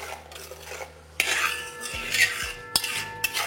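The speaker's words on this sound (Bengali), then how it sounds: "ভালো করে একবার মিশিয়ে নিন" A metal spoon clinks and scrapes against a pan as garlic, ginger and green chilli paste are mixed for a katla fish curry, close and loud with sharp repeated knocks and no speech.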